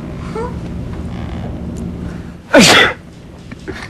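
A single loud, sharp sneeze bursts out close by over a low background murmur, then quiet returns.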